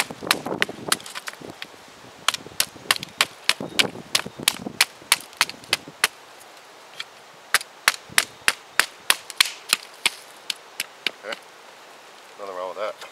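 Wood is split for a bow drill spindle without a knife, heard as a long run of sharp, dry cracks and knocks in uneven rhythm, close and loud, with brief voice toward the end.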